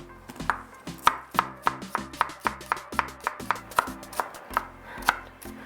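A knife roughly chops onion on a cutting board in about twenty crisp, evenly spaced thuds, close and clear with no talking.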